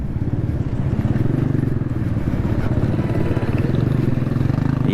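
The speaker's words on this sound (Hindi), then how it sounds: "किस तरह से बाइक आ रही है और बंदा किस तरह से जा रहा है।" A motorcycle rides along a badly broken road beside a nala, its engine a steady loud rumble close by for several seconds, rattling over rough ground without any voices.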